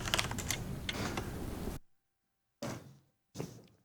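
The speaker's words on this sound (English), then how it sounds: "I think there's that bad keyboard again." Rapid clattering keystrokes on a bad computer keyboard, close and fairly quiet, a dense burst of typing that stops, then two short clusters of taps after a pause.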